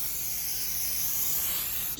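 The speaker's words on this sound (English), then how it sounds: "I'm going to give this a good spray," Oil sprayed from a can onto ham and cheese steak skewers gives a close, continuous airy hiss lasting about two seconds before cutting off abruptly.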